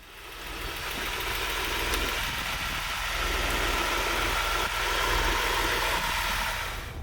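A Porsche 911 996 engine running as the car is driven, a steady, moderately loud hum with broad road and wind noise and small swells in level.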